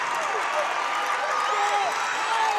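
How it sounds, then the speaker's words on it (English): A crowd at a high school volleyball state final cheers steadily as a dense, continuous roar with scattered shouts. It stays loud and unbroken from start to finish, with an announcer talking over it. "crowd of their own that is fired up"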